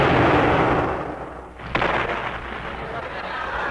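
A ship's guns fire a salute in a radio drama, a heavy booming blast rolling out with a second sharp report partway through, over a rumbling background.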